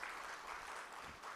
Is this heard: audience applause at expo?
yes